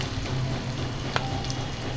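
Garlic and onion frying in a pan for a spicy crab dish, a steady close hiss of sizzling oil with a faint stir sound, no voices.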